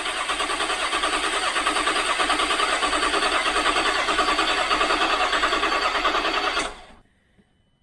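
A rebuilt Land Rover LR4 with the SDV6 diesel engine cranks and runs as a loud, dense, steady mechanical roar that holds for almost seven seconds, then cuts off abruptly into near silence.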